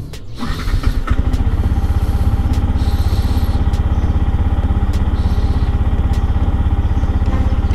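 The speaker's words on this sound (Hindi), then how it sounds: "चालू करते हैं बाइक को और इसकी एग्जॉस्ट नोट सुनते हैं पहले।" A BS6 Yamaha MT-15 motorcycle engine cranks and fires up, then settles into a loud, steady idle with a rapid, even exhaust pulse close by.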